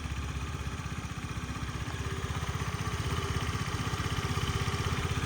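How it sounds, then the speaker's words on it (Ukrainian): A Honda Tact AF-68 fuel-injected scooter engine idles steadily with an even, rapid putter and light mechanical clatter, close and unchanging throughout. "Як на мене, робота двигуна от просто ідеальна."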